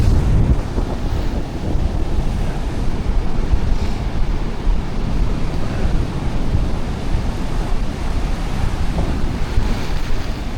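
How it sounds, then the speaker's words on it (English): Sea water washing up on a Malta shore, a steady broadband surf wash with gusty wind buffeting the microphone, continuous and fairly loud throughout. "So the water washes up like that, goes back out again"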